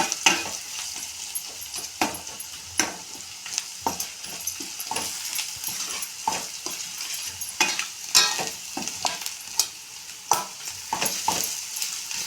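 Ground spice powder being stirred through a sizzling frying pan while making a spiced brinjal (eggplant) fry, with steady close scraping strokes over a constant hiss and no talking.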